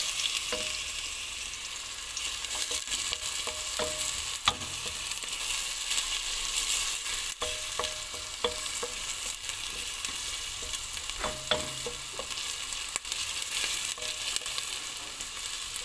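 Onion and garlic fry in a pan, giving a steady, close, bright sizzle that runs throughout with faint occasional ticks and pops, no voices.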